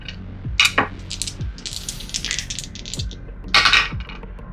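Dice in a board game clatter across a table on a reroll, with a couple of sharp rattling bursts and a scatter of small clicks as they settle, close and fairly loud, with no talk over them.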